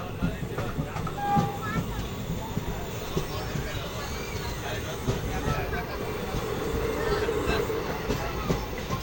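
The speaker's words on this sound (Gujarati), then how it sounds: "આપણે જુઓ આ રીતે ટ્રેન ચાલી રહી છે" A passenger train heading to Junagadh rolls along with a steady rumble and wheel clatter, recorded from on board, continuous and moderately loud throughout.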